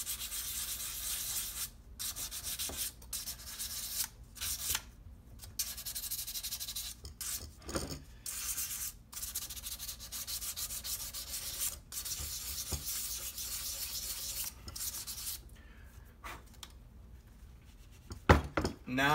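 Close, rhythmic scrubbing strokes of 500 grit sandpaper against a metal gun gas block, with repeated passes broken by short pauses and a few knocks near the end.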